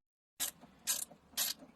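Zip tie ratcheted tight in three quick, crisp zipping pulls during a Volvo 740 intercooler install, close and fairly faint, with brief gaps between pulls.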